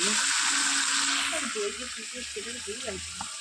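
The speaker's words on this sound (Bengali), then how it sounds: "তো কাঠের জালে একটু মাংসটা কষিয়ে নিচ্ছি, রান্না করে নিচ্ছি।" Meat being sautéed over a wood fire, a steady loud sizzle and hiss running throughout while someone talks over it.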